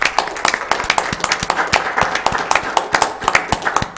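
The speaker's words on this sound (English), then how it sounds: "I think it would be appropriate if we gave these graduates a round of applause" Applause at a county commission meeting honoring graduates: a small group claps briskly and irregularly, close and fairly loud, the individual hand claps distinct rather than blended into a roar.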